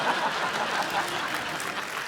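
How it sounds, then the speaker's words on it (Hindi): Loud, continuous applause from a comedy talk show studio audience, a dense wash of clapping that stays even across the whole stretch. "जोरदार तालियां।"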